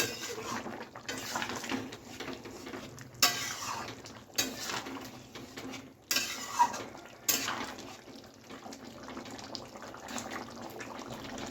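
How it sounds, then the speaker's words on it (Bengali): A jackfruit and potato curry is stirred in a pot, with intermittent clacks and scrapes of a metal spoon against the pot over a low, bubbling background. "কিছুক্ষণ একটু নাড়াচাড়া করে"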